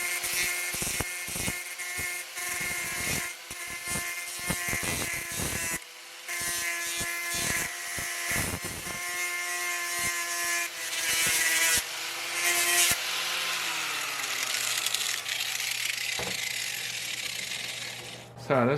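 The inner wheel arch repair on a Mercedes W108/W109 being sanded down to metal with 60 grit abrasive, a powered sander's steady whine broken by repeated harsh grinding bursts where it meets the steel, close and loud throughout.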